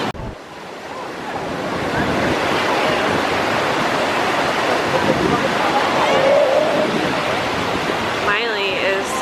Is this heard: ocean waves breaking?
yes